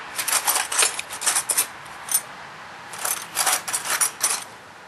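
Metal thread files and deburring tools clink and rattle as they are picked up and set down, in irregular clusters of bright metallic knocks, close and moderately loud.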